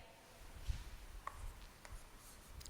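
Quiet writing on a board during a maths lecture on matrices, with faint scattered taps and scratching strokes over a soft room background and no talk.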